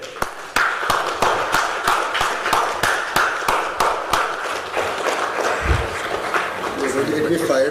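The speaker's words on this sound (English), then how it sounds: "this man deserves a standing round of applause" An audience claps for a speaker at an ICC plenary meeting, with a steady run of distinct claps rising to a full round of applause under a voice on a public address system.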